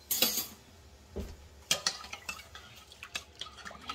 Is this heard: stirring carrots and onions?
yes